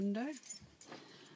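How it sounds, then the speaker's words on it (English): Car keys jangling in a hand during an outdoor walk on a hot day, a brief metallic rattle that follows a moment of speech, fairly close and light. "On my car keys and open the window."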